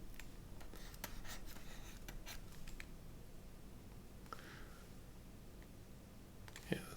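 A stylus scratches and taps across a drawing tablet in quiet, irregular strokes, with short scraping bursts clustered early and a sharper tick near the end.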